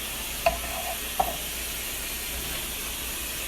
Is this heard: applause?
no